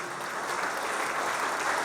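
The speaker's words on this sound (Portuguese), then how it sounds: "Uma salva de palmas, Peralta." Audience clapping at a retail and franchising business event as a speaker is called to the stage, a dense, even patter of many hands held at a moderate level without talk.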